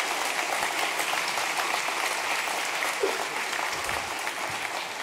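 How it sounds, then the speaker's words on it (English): Audience at a blockchain incubator demo day applauding the startups, a steady, full roar of clapping that holds evenly throughout, with faint voices underneath. "let's give another round of applause for all the startups that have pitched tonight"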